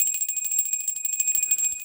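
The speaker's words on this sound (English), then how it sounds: "I always cleanse with a bell because it's a nice way of cleansing the space in between readings" A small hand bell rings continuously indoors to cleanse a space between tarot readings, a bright rapid tinkling with steady high ringing tones, close and clear with no talking.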